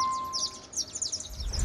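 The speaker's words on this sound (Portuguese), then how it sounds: "Olha o tanto de passarinho, ó." Small birds chirp and twitter in quick high bursts near an Atego 2425 truck at an auction lot, with a steady tone at first and a low rumble rising at the end.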